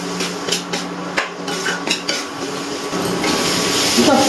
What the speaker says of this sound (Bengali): এবারে খুব ভালো করে মশলাগুলো মিশিয়ে নাড়াচাড়া করে নিচ্ছি।